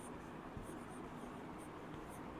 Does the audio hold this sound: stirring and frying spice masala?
no